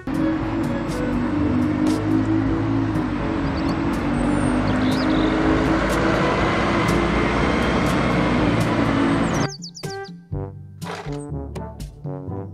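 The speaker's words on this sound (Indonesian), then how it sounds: "mobil bus kota." Toy city bus shown among a collection of toy vehicles, a loud, continuous engine-like roar with a rumbling drone that suddenly breaks off into short, choppy bursts and clicks near the end.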